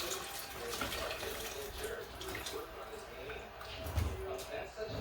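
Hot pumpkin crab soup is poured into a blender, giving a steady, fairly loud liquid pour with splashing that runs throughout, plus a low thump near the end.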